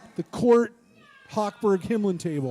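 People at a Passover Seder imitating a cat's meow, several drawn-out vocal meows in quick succession, close and loud, with brief talk mixed in.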